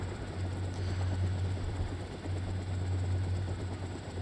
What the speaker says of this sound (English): Yes, that is a helicopter.